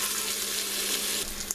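Bacon frying in a pressure cooker, a loud dense sizzle held close and steady for the whole moment, with no voices.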